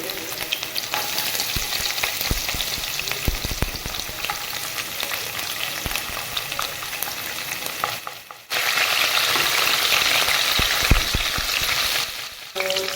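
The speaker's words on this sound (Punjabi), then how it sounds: "ਹੁਣ ਆਪਾਂ ਇਹਦੇ ਵਿੱਚ ਲਸਣ ਪਾਵਾਂਗੇ ਕਿਉਂਕਿ ਲਸਣ ਨੂੰ ਥੋੜਾ ਪਹਿਲੇ ਭੁੰਨੀਏ" Garlic frying in oil with browned cumin for kadhi pakora, a loud continuous crackling sizzle with stirring clatter, briefly dipping twice before surging hotter again.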